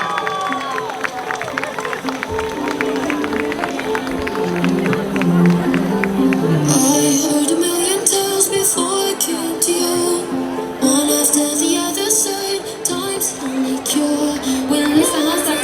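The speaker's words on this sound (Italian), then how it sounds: "Un grande applauso." An audience at a Miss Palio village festival event in Paluzza breaks into sustained crowd applause and cheering, a dense wash of clapping that swells midway and carries on, with a presenter's voice and chatter underneath.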